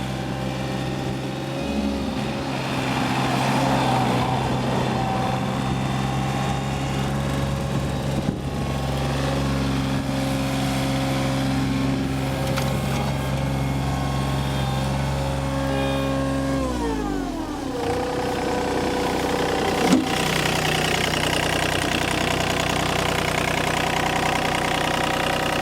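A 2003 John Deere 3235B fairway mower with a Yanmar 3TNE84 diesel engine runs close and steady, its droning idle shifting pitch a few times as the engine revs and settles.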